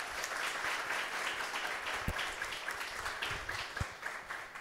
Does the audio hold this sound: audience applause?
yes